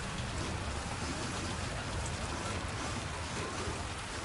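Dark, rainy outdoor weather in the Death Stranding 2 video game: a constant, even patter of rainfall filling the whole scene with a steady hiss.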